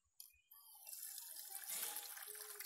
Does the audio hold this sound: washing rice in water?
yes